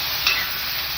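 Tomatoes are stirred into masala frying in a pan for kurma, giving a steady, loud sizzling hiss with a brief scrape of the spoon partway through.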